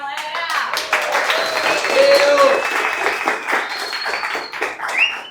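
An audience applauds a company team gathered at the front, a dense, steady round of clapping with a few cheers and voices mixed in, swelling briefly toward the end.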